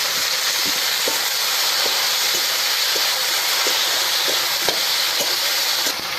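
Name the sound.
tomatoes added to hot pan with ginger and garlic, sizzling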